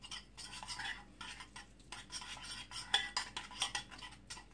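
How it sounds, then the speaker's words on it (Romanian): Garlic being stirred with salt and two spoonfuls of oil, a utensil scraping and clinking against a bowl in quick, irregular bursts, close and moderately loud, with no talking. "voi amesteca usturoiul împreună cu sarea și uleiul."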